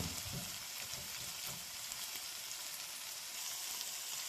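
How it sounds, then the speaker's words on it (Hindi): Capsicum (bell pepper) being sautéed in a pan for mixed vegetable sabzi, a soft continuous sizzle with light crackles and a few faint stirring scrapes, quiet and unbroken. "बस हल्का सा इसको भी सौटे करते हैं शिमला मिर्च को"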